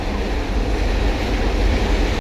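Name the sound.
train passing overhead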